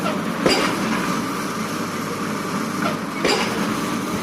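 A pile-driving machine hammers concrete foundation piles on a building site, with two heavy impacts about three seconds apart over a constant loud mechanical drone.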